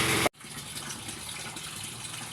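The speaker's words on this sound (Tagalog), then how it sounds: "napuno ko na ng tubig ang aking pan number 1 na kinalalagyan ng aking mga alagang hito" Water steadily filling a catfish-rearing pan, a continuous broad gushing flow that starts abruptly after a brief louder burst and runs on evenly and close by.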